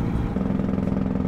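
A truck's Jake brake in American Truck Simulator, a deep, rapid engine rumble that is loud and close, heard alone for about a second.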